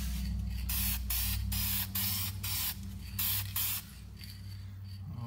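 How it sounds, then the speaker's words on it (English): Several short, hissing bursts from a spray can onto a Mustang GT grille, each lasting a fraction of a second, close by over a steady low hum. "I like to spray the top."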